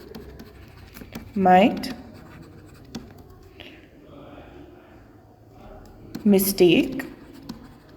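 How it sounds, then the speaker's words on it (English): Pen scratching on paper as someone writes, two short scribbling bursts separated by quiet, close and fairly loud, with a person talking between them. "Let's write it down."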